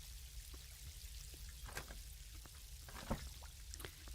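Water flowing in the video game Captured 2, a steady hissing rush with faint scattered drips and splashes, moderately quiet and continuous with no talk.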